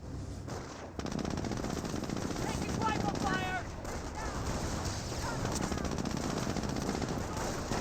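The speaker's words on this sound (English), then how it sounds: "The 30 cal can be loaded up on piercing rounds to engage these forces." A .30 cal machine gun firing in Company of Heroes, the WWII strategy game, rattles in fairly quiet, continuous bursts beneath a dense battlefield din with scattered crackles.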